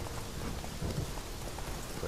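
Steady rain falls through a desolate night in The Witcher 3, a dense, even hiss of drops on the ground that holds the same level throughout, with no break.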